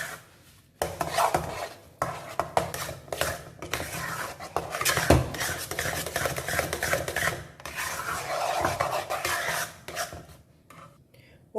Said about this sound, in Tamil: இதையும் நல்லா நம்ம இப்போ கிளறி விட்டுடலாம்.